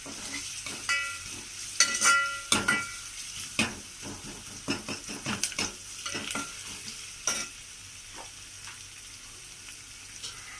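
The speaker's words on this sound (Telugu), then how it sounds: "అల్లం వెల్లుల్లి పేస్ట్ పచ్చివాసన పోయే వరకు వేయించుకోవాలి." Ginger garlic paste sizzles in a hot pan while a spoon stirs it in repeated scraping strokes, the frying steady and close with no talk.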